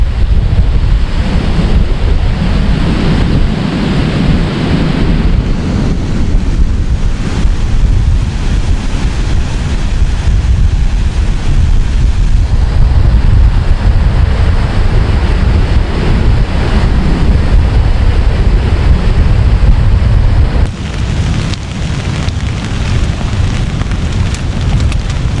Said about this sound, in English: it is definitely cold and windy